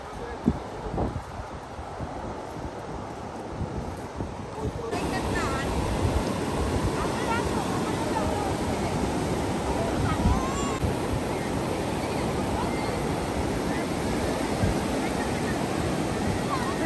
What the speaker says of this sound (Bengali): সমুদ্রের শব্দ শুনতে এত ভালো লাগে